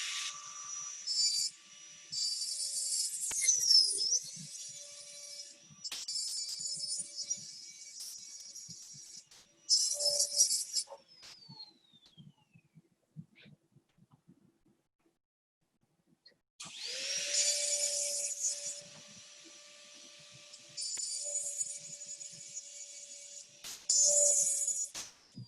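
A dental bur, diamond or carbide, grinds retention notches into a root pivot for an overdenture, whining high in several bursts of a few seconds each, separated by quiet pauses.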